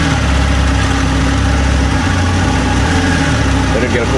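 A 2021 Triumph Rocket 3 GT motorcycle idles after a cold start in Mumbai, a loud, close, steady low rumble with an even throb throughout.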